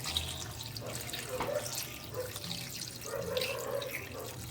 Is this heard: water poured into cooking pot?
yes